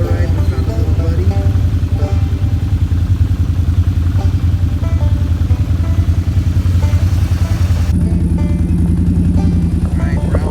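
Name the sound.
four-wheeler ATV engine riding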